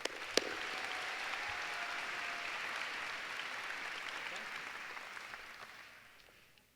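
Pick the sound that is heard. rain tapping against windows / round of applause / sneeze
round of applause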